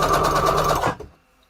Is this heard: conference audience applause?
no